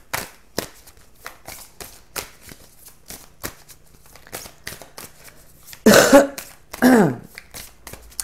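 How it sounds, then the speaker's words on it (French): A person coughing, two harsh, close bursts of coughing after a stretch of soft rustling and tapping, with no talk. "Alors excusez-moi, je tousse,"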